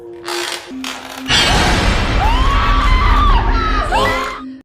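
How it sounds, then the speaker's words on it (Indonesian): A sudden horror jump-scare effect in a frightening story: a loud crashing sting bursts in, followed by a frightened woman screaming with rising and falling wails over a dense, loud sound bed, after a short tonal opening. "Sontak Mila berteriak ketakutan dan lari menuju ke kamar Novi."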